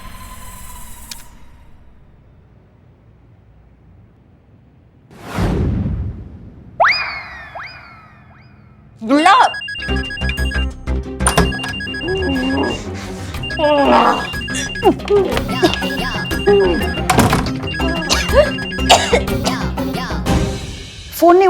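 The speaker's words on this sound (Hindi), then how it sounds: "फोन नहीं उठा रही है।" A desk telephone in a police station office rings with repeated electronic trills that go unanswered, fairly loud and continuous over background music after a brief thump and a short tone near the start.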